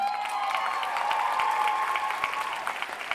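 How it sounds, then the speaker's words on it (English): An audience at a Comic Con 2017 Supergirl cast panel breaks into applause, a dense, steady wash of clapping from a large crowd that begins to thin near the end. "we get a round of applause for Odette, please."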